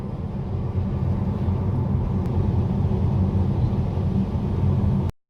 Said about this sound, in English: now we are going to test acceleration of this thing from 0 to 100